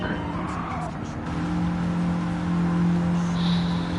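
A race car brakes hard in Gran Turismo 7: a steady engine drone with a sustained tonal tire squeal that grows into a long whine, loud and close, with no voices.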